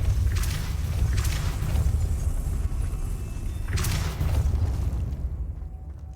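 Depulso force spells cast in the Hogwarts Legacy wizard game, heard as several brief whooshing blasts over a steady low rumble, with two bursts close together early and another a few seconds later.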